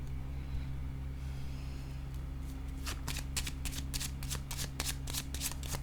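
Playing cards are shuffled close by during a team card game, quiet handling first, then a fast run of crisp riffling bursts, with no talk.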